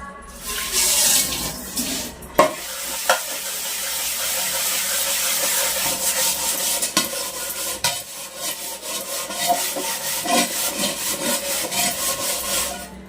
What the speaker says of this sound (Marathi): असा साबण याला चिटकून घ्यायचा चोत्याला आणि आपण आता घासून दाखवतो